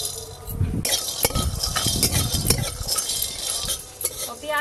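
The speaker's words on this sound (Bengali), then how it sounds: "একসঙ্গে ভেজে নেব" Whole spices, including black pepper, star anise and mace, fry together with cashews in a pan, and a spoon stirs busily with metallic clinks and scrapes over a light sizzle, close and lively.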